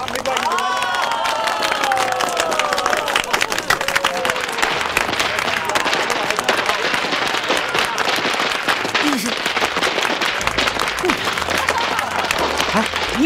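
Crowd applause and cheering mix with popping firecrackers at a shop's grand opening, a busy crackling din that runs throughout, with voices calling out over it at the start.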